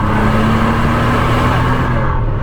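A 2014 Bentley Flying Spur with 600 horsepower pulling hard under acceleration, its engine a loud, steady, close roar that holds for the whole stretch and then cuts off abruptly.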